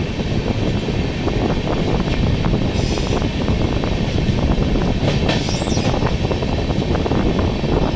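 Inside the Howrah Amritsar Mail passenger train, a loud, steady rumble of the running coach carries on without a break. Dense wheel clatter and rattling come through close, with no voices.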